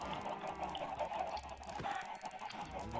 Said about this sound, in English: By the way, I'm culling your chickens.